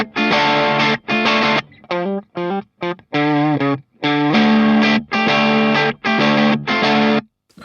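An electric guitar runs through the Americano Octafuzzdrive fuzz pedal, loud chopped chords and single-note runs with thick saturated distortion, short bursts separated by brief silences, with no talking.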